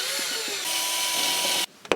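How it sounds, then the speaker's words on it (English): A small drill driver fitted with a drill bit pre-drills a screw hole in a van build, whirring steadily at close range for under two seconds before it stops abruptly. "I'm going to take my little drill driver, switch it over to drill bit, pre-drill those holes"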